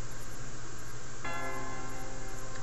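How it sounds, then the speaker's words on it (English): A church bell tolls in the fantasy adventure game King's Quest II, breaking in suddenly partway through with a bright, ringing strike that hangs and decays over steady low background ambience. "The church bell is tolling."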